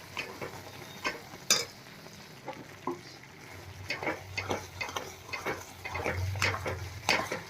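Utensil scraping and stirring in a pan with intermittent clinks, over a low sizzle of a cooking mixture of fried gram flour with jaggery water just added; no talking.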